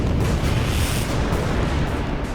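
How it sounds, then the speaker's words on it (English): Cannon artillery fire in a battle, heard as a dense, continuous rumble of booms that stays loud throughout, with no gaps of silence. "More and more Austrian cannon are pulled up and begin to pulverize the French line."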